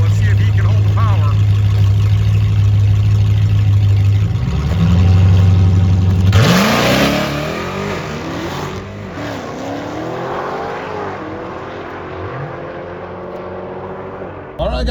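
A Dodge Demon 170 fitted with a parachute launches hard on a drag strip at a large Mopar event, its engine droning loud and low before a sharp roar as it accelerates away and fades, with a crowd around.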